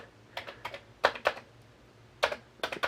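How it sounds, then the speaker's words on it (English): Typing on a sticky Commodore 64 keyboard with an early serial number produces sharp plastic key clacks in small irregular clusters, close and distinct over a faint hum, with no voices. "Keyboard's a little sticky."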